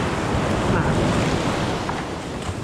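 Ocean surf rolls in on a beach in a constant loud wash of breaking waves, with wind buffeting the microphone and no clear gaps.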